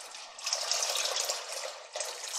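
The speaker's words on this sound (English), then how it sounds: "And I've added about another 3 cups of water." Water pours into a pot of Louisiana red beans with a turkey leg, a steady splashing stream that swells, dips briefly near the end, then resumes, with no talking.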